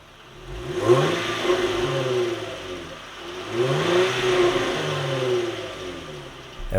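A Land Rover Discovery 5's engine, push-button started, revs twice in a row, each rise climbing to a loud mid-pitched roar and falling back toward idle, close by with no talking.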